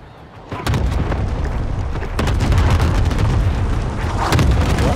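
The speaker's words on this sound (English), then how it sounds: "Allied cluster strike arriving." An allied cluster strike lands in Call of Duty Warzone, a loud, dense barrage of overlapping booms and blasts that rolls on continuously after a sudden onset, with heavier bursts mixed in.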